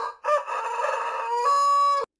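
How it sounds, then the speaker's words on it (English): A rooster crow from Minecraft Bedrock rings out once, a clear, loud, stretched cock-a-doodle-doo with a rising final note, then stops abruptly into silence. "There was a rooster sound."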